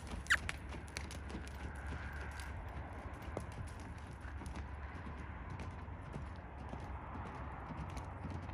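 Horse hooves thud in a rolling three-beat rhythm as the horse canters around an arena. The hoofbeats are faint and somewhat distant against a low background hum.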